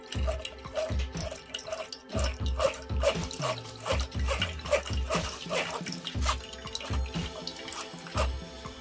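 Juice from grated carrots is strained, running and dripping with wet splashes and squeezing pulses at close range, nobody talking.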